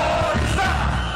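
A crowd shouts together at a Bayan prayer rally in the Philippines, a loud, sustained mass of yelling voices filling the whole moment with no single speaker standing out.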